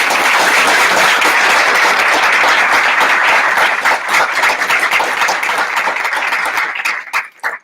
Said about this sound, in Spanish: si yo les puedo pedir un aplauso reconociendo